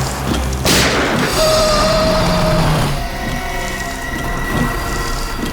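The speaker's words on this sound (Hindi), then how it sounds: "गोली की आवाज" A gunshot in a tense night scene from a Hindi crime drama: one loud, close boom that bursts out and then fades into a long rumbling tail, with no speech.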